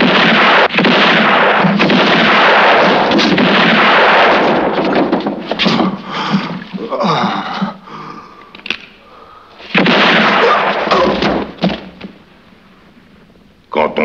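Gunfire in a Western film scene, a dense, loud barrage of shots and booming blasts that thins into scattered cracks and rumbling, then surges again before fading, with no speech.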